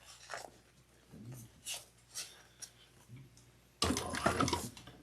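A sewing machine back stitches a clear bag: several short quiet bursts of handling and clicks first, then a sustained loud mechanical whirr of stitching near the end.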